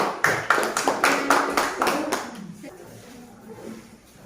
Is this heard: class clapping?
yes